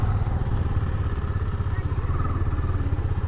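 Motorcycle engine idling steadily up close on a mountain road, a continuous low rumble with light clatter throughout while the bike is being parked.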